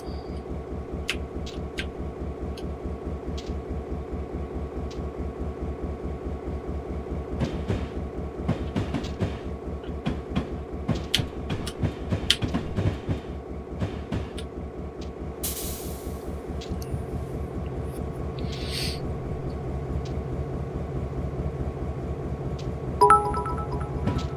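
An Alaska Railroad GP38 diesel locomotive in Train Simulator 2018 runs steadily, with a continuous engine drone, rhythmic rail clicks, scattered clanks and brief hissing bursts from air brakes.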